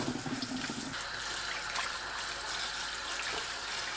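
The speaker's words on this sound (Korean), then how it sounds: "상추를 두세 번 씻어줍니다" Tap water runs steadily while lettuce is washed two or three times, a continuous close hiss and trickle with no talk.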